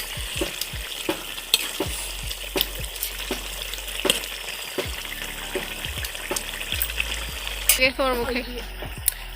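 Garlic and green chillies spluttering as a tempering in hot oil for a fish-head and spinach dish, a steady sizzle with regular spatula knocks and a brief burst of running water near the end; faint talk is also present.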